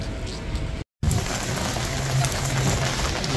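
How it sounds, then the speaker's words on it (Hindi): Heavy rain begins suddenly on a street in Walthamstow, London, a dense, steady hiss of downpour broken only by a momentary dropout, with faint traffic beneath and no talking. "जी एकदम से शदीद बारिश का आगाज़ हो गया है।"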